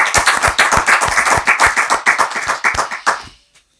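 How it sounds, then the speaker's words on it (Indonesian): An audience claps together in a quick, roughly even burst of about twenty loud, close claps over three seconds, then fades out abruptly. "Tepuk tangan."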